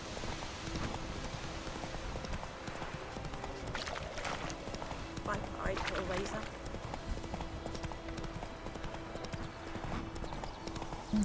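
Geralt's horse Roach trots along in The Witcher 3, a steady close clip-clop of hooves over a constant rain-like hiss, with a low hum and a few brief voices in the background.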